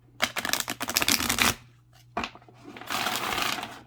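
Large Black Moon Astrology cards being shuffled by hand: a rapid riffling burst, a pause, a brief flick, then a softer sliding shuffle, close and clear with no talk.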